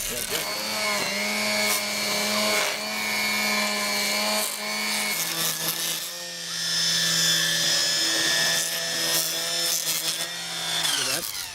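A Milwaukee Quik-Lok string trimmer with its new cutting head runs continuously, a loud, close motor whine holding steady pitches that shift down and up a few times over the stretch.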